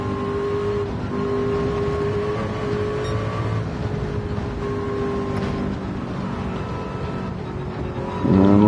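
Racing car engine droning steadily at high speed through the Porsche curves of Le Mans in a virtual-reality racing game, a continuous loud tone with a sudden rise in intensity near the end.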